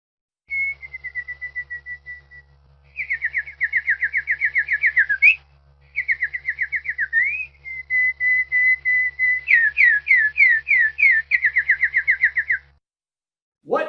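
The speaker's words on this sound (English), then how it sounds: "it was the bluebird chirping" A bird's clear, high whistled chirps repeat in rapid trilled phrases with short pauses between, close and prominent over a faint low hum.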